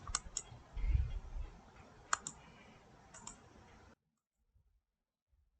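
Keys clack on a computer keyboard while a search for Discord is typed into the Google Chrome search bar, a quiet run of light irregular clicks over a few seconds that stops abruptly into silence.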